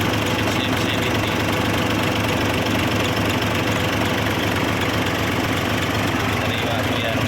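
A Fuso truck's 6M70 diesel engine idles with a steady, loud, low rumble and a faint knocking texture, heard up close and unchanging throughout.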